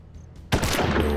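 Gunshots from the video game Hard West arrive as a sudden loud burst of overlapping shots after a quiet moment, sounding like a close, sharp volley.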